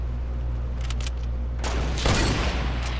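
A burst of gunfire in the battle royale game Fortnite, loud and close, building from scattered shots into a dense volley over a constant low engine-like drone.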